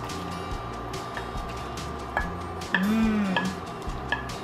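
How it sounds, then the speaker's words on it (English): A spoon stirs salmon stew with canned salmon and its juices in a pot, giving soft scraping and clinking, with a few brief metallic taps and a short squeak over a low background hum. "Stir this together for a moment"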